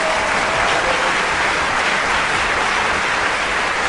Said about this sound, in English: Let me get the clap for him at least.